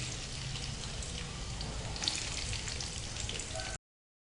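Onions go into hot oil and give a soft, steady sizzle that runs evenly for a few seconds, then stops abruptly.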